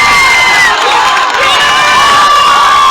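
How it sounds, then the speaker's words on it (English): Crowd at a 16-inch softball championship game between Taft and Payton cheers and shouts loudly and steadily, many young voices whooping together in a dense, continuous roar throughout. "the Taft crowd starts to come to life"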